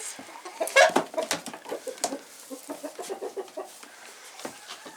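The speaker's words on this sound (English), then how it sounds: "Come on, chickens." Chickens moved into a new coop cluck in a steady run of short, close calls, with a louder burst near the start and softer, regular clucks after it.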